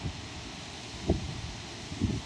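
Wind gusts across an outdoor walking path, heard as steady broadband rushing and microphone buffeting with a couple of stronger thumps, fairly loud throughout and with no speech.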